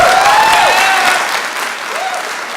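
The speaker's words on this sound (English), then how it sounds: "we ask you to please refrain from any applauding during the debate" Debate audience clapping during a 2016 governor's debate, a steady wash of applause that slowly thins, with a faint whistle-like tone gliding through it.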